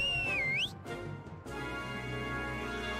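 Brief whistle in the video game Druidstone, a sliding tone that dips and rises over about half a second, then gives way to an ambient game soundscape of steady tones and low rumble.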